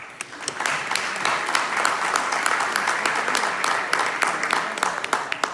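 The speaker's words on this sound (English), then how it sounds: "We are so not used to an audience and applause." Audience at a school board of education meeting clapping for students being recognized, a steady round of applause with distinct nearby claps, moderately loud for several seconds.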